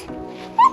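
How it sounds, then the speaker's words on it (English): A new puppy in a village home gives one short, high whimpering yip near the end, over faint background murmur. "We have some new puppies."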